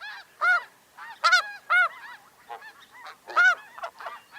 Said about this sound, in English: this flock is a mix of both the petite Ross's goose